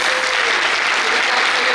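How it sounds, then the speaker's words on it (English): A crowd at a 2022 art and design college commencement applauds the graduates' families with loud, sustained clapping through the whole short burst, and a faint voice rises briefly above it. "Can we hear it for the families?"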